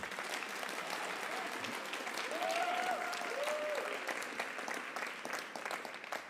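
Sustained audience applause at a 2024 Panther Awards ceremony, steady dense clapping from a crowd throughout, moderately distant with a faint voice briefly over it.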